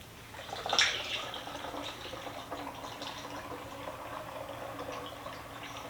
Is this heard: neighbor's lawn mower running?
no